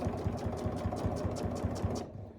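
A sewing machine stitches a fabric mug rug at a quarter-inch seam, its needle pounding in a fast, even rhythm of about eight beats per second before stopping abruptly, close and fairly quiet.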